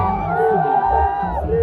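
A large crowd shouts and cheers in unison, chanting slogans for cricketer Rishabh Pant; the loud, sustained roar has tonal, chant-like voices riding over it throughout.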